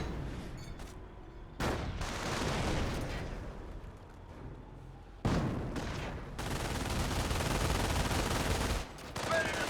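Rapid bursts of MG42 machine-gun fire in Company of Heroes 1 rattle in dense volleys, dropping out around two and five seconds before resuming loud and sustained with sharp cracks.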